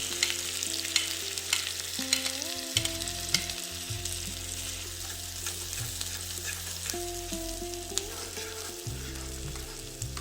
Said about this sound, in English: Now add chopped onions to the heated oil and mix well.